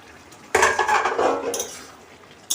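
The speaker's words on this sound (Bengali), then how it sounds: "আমি তরকারি থেকে ঢাকনিটা তুলে নিচ্ছি।" A metal lid, used as a plate cover, lifts off a pot of soybean curry with a loud clattering scrape and rattle, followed by a brief clink and another knock a second later.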